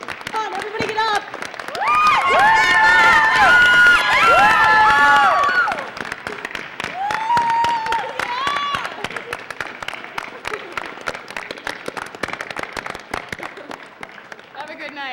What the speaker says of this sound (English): Everybody, let's stand up and give her a round of applause.